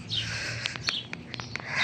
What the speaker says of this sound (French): En tout cas vous entendez les oiseaux, c'est déjà ça.